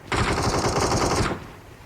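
Sustained rapid video game gunfire rattles loudly for over a second, a dense automatic burst, then cuts off abruptly into quiet room noise.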